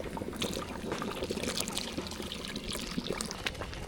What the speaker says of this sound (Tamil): இப்போ வந்து புளி தண்ணி சேர்த்துக்கலாம்